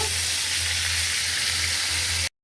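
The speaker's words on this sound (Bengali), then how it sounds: "আমি এখন পুঁটি মাছটা একটু ভাজা নিব তো দিয়ে দিলাম বেশ পুঁটি মাছগুলো" Puti fish, small pool barb, frying in hot oil, a loud, close, steady sizzle and crackle with no talk, cutting off abruptly at the end.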